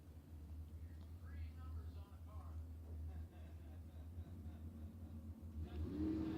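A dragster engine accelerates in a drag race at the Cactus Clash, a steady mid-range roar heard from a distance, with commentators talking over it the whole time.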